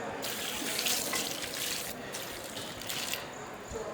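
Tap water pours steadily into a pot of spiced beef, a continuous rushing splash close by that briefly changes tone near the end.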